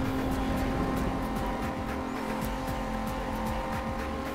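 Cars in the racing game Need for Speed: Most Wanted roar with engine drone while tires squeal under hard braking on a highway, loud and continuous, with rhythmic clicking over the top.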